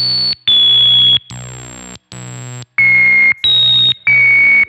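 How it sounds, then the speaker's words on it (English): A Korg ARP Odyssey synthesizer plays a run of sustained notes, each at a random pitch from sample and hold, bright buzzy tones starting and stopping in a loud uneven rhythm, no talk. "you can hear that the sample and hold generator is choosing a random frequency every time I hit the note"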